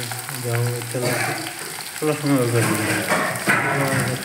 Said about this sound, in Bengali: তেলের মধ্যে দেওয়ার পরে আপনার তেলের মধ্যে ভাজুন লাগবে